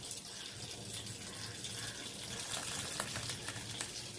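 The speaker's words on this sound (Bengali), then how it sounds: "এবার একটু হালকা করে জল দিয়ে দেবো।" Water poured into a pan of rohu fish cooking with taro stolons makes a steady, close sizzling hiss with a faint liquid splash underneath, and no voices.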